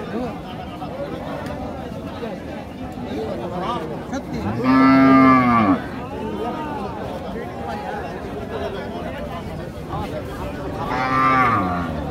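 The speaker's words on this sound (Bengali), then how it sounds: "জোয়ান বয়সের কিন্তু একটা গাভী আছে।" At the Raniganj cattle market in Dinajpur, a young local cow moos loudly once at close range and again more briefly later, while someone talks continuously over the market bustle.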